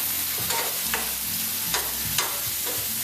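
Baby bella mushrooms and pancetta sizzle steadily in a pan, with a continuous close frying hiss broken by a few sharp spatula scrapes as the food is moved around.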